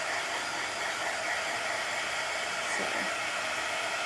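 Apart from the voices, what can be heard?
hair dryer blowing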